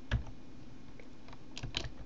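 Short burst of keystrokes on a computer keyboard while entering file IDs, a few quick close taps clustered at the start and end.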